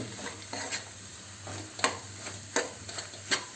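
Tomato and egg fry sizzling in a pan while being stirred, with soft scraping strokes recurring every second or so over a steady low frying hiss, close and moderately quiet, no talking.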